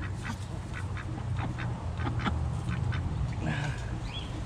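Ducks quack repeatedly in a steady series of short calls over a constant outdoor background, with a louder honk-like call near the end.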